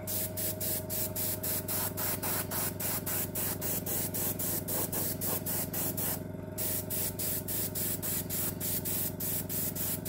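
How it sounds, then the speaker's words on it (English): Undercoat sprayed onto the bottom of a vehicle, a loud, close hiss pulsing in rapid regular bursts for the whole stretch, with one brief louder gust midway and no talking. "A nice layer of undercoat on there and the side"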